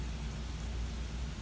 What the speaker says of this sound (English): It's raining hard as a motherfucker out here.